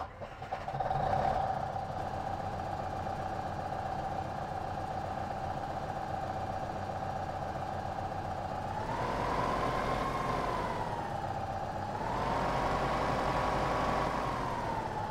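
Tractor engine in the Farming Simulator 15 video game, a steady droning idle that rises in pitch twice as the revs climb briefly and settle, continuous and even with no voices.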